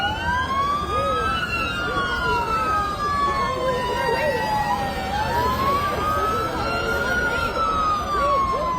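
Several police cars pass one after another with wailing sirens, their pitch sweeping up and down and overlapping loudly for the whole stretch, with traffic noise beneath and cops lined along the roadside.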